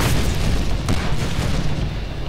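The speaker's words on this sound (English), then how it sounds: "He sticks us with a grenade." A grenade blows up in the video game Deadpool: a loud, deep, rumbling boom that fills the whole moment, with a short crack partway through and no talking.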